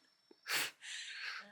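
A single sharp sneeze bursts out close by, preceded by a quick intake of breath and followed by a hissing exhale.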